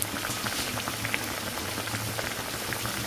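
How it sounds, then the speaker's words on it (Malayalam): Parippu vada sizzles in hot coconut oil over a full flame: a dense, continuous crackle and bubbling, steady and close, with no talking. "നമ്മൾ പരിപ്പുവട ഇടുക കേട്ടോ വെളിച്ചെണ്ണയിലേക്ക്"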